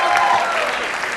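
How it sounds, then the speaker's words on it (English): A hospitality convention audience breaks into sustained applause, a dense, steady clatter of many hands clapping that fills the hall at an even level throughout. "a huge round of applause for Mr. Riyaaz."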